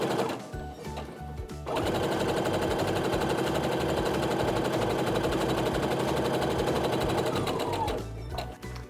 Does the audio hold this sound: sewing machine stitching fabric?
yes